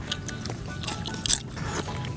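Chewing grilled shrimp eaten shell-on, cooked in bamboo, with close, moist crunching and biting bites in a continuous stretch under light background noise.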